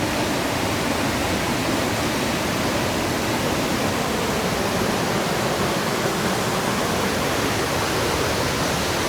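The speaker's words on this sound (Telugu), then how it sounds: "ఇక్కడ నుంచి చూస్తుంటే వాటర్ ఫాల్స్ అదిరిపోయింది" A waterfall near Melbourne roars in a dense, constant rush of water, loud and unbroken from start to end.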